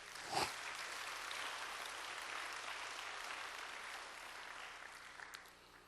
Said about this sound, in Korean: 우리 하나님께 응답받는 믿고 감사 박수하겠습니다